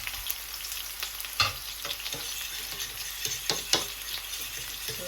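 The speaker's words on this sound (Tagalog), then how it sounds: "So, bawang, garlic, and onion. Gisa-gisayin muna natin." Garlic and onion sauté in a hot pan, a steady close sizzle and frying hiss with occasional stirring scrapes and clinks over the top.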